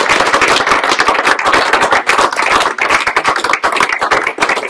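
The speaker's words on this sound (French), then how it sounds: "Malgré ces applaudissements" Dense, sustained applause from a seated audience at a Breton bagad association's general meeting, loud and continuous with no voices over it.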